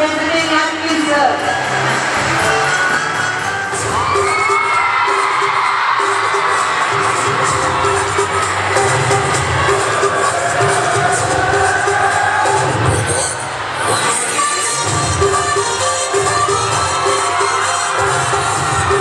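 Children's Day celebration crowd of children and adults clapping, whooping and cheering loudly and continuously for nearly twenty seconds, a dense, boisterous wash of applause with shouts mixed in.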